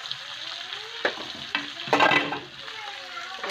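Shredded cabbage hits a hot pan with some meat and sizzles continuously. Stirring scrapes and a louder burst of frying come through the middle of the clip, close and steady with no talking.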